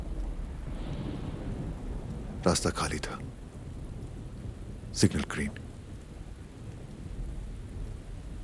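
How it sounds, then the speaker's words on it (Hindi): Steady rain pours throughout at night, with a low rumble of thunder, while a voice speaks briefly twice over the downpour. "उस रात बारिश हो रही थी"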